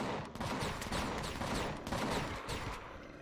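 Rapid bursts of gunfire in the space survival game Empyrion Galactic Survival, a dense continuous fusillade of shots aimed at the player that stays loud throughout with no speech.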